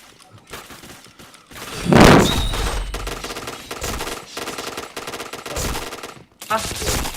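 Rapid machine gun bursts from the shooter game PointBlank, loud and close, with a heavy volley around two seconds and repeated firing continuing over game effects, while a voice talks over it.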